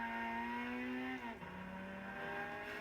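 Turbocharged Lotus Elise engine in Gran Turismo 6 revving hard with a steady, loud harmonic drone that dips in pitch partway through as it shifts, then settles into a lower sustained tone; no talking.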